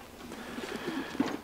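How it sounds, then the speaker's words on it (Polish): A strong male racing pigeon gives soft, low cooing close by, a few throaty murmuring notes in quick succession over quiet room noise. "Gołąb jest przepiękny."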